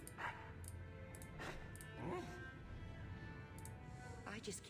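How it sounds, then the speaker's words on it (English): A dog in the Dragon Age video game gives short yips and soft whimpers, faint and spread across low game ambience and background music. "Sleepy puppy."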